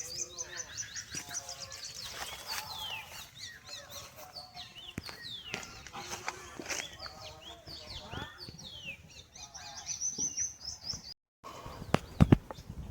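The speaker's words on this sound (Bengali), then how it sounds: "একটা খুব সুন্দর পাখির ডাক" A songbird calls outdoors near a young white jamun tree, its chirps and tweets repeating in short bursts at moderate distance, with occasional soft wing flaps and a few louder knocks near the end.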